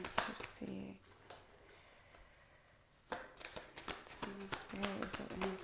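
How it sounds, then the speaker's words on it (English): Tarot cards being shuffled by hand during a reading, giving soft riffling and snapping bursts in short rhythmic clusters, with a quiet pause in between, close and moderately quiet. "Alright, I'm going to shuffle one more time."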